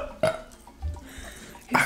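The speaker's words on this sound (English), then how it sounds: "You're supposed to burp in the freaking mic." A short burp made close into a microphone during a casual home question-and-answer recording, one brief low gulping belch between quieter mouth and breath noises.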